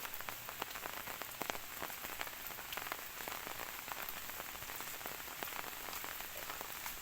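Rain falls steadily on a forest, a dense, even patter of drops hitting leaves and ground, with scattered sharper drips standing out, constant and moderately close throughout with no voices.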